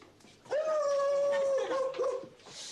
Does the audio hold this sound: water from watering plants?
no